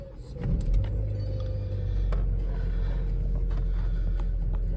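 A Vauxhall Corsa that had a starting fault cranks and catches, then settles into a loud, steady close idle that carries on to the end.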